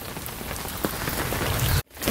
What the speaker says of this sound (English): The actual rain now is peaceful now that it's not as hard